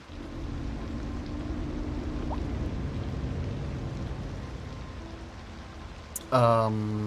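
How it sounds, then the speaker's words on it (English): Steady rain falls in the city-building game Cities: Skylines 2 as a continuous broad hiss under a faint low hum, until a louder game tone cuts in near the end. "It's so rainy."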